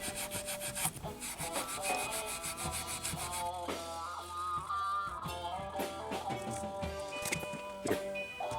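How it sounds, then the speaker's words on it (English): Fine steel wool polishes a Hamer Slammer guitar by hand, giving soft continuous rubbing strokes close up, with faint ringing string tones sounding underneath. "We move to the lightest steel wool I have."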